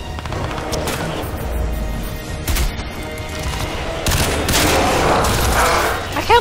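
Bursts of heavy gunfire from a powerful weapon in the shooter game Crysis 2, loud rapid volleys broken by short pauses and growing denser toward the end, with a player's voice over part of it.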